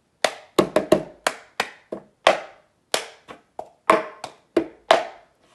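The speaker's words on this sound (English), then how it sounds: "for anyone who doesn't know what the cup game sounds like" Cup game rhythm played with hands and a cup: crisp claps and hollow cup taps and slaps in a steady, repeating pattern, close and alone without voices.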